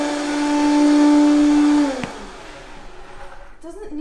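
A blender runs at high speed mixing in yeast, a loud steady whine that winds down and cuts off after about two seconds, followed by quiet room noise and a brief voice.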